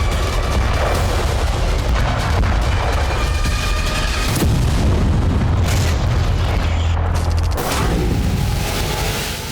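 Storm Shadow missile strikes explode in a continuous, loud roar of booming blasts and rumbling detonations with heavy low-end impacts, sustained throughout without a pause.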